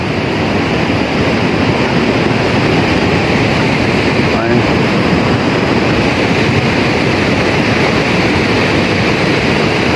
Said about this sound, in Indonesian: banjir kali ini cukup deras ya